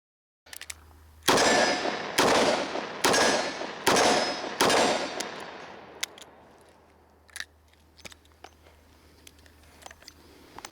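A Ruger LCR revolver fires Remington .38 Special +P rounds outdoors: five sharp, loud shots in fairly quick succession, each ringing out and decaying, followed by faint clicks and handling noises.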